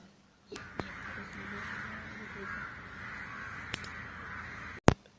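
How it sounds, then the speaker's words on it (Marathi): Crows caw faintly in the distance over a steady outdoor hum beside an outdoor wood-fired stove, with a few sharp knocks near the end. "कावळ्यांचा आवाज तुम्ही ऐकलाच असेल इथे खूप कावळे आहेत"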